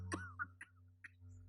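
A woman coughs in short, quiet bursts, three or four dry hacks spaced out against a low steady hum, close and without talk.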